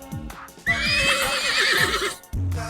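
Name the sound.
horse (mare) neighing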